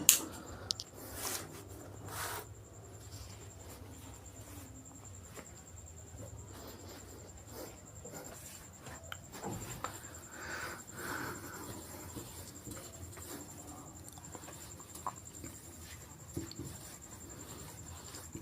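Sentences are handwritten with a pen, giving faint, continuous scratchy strokes and occasional light taps at close range, with no talking.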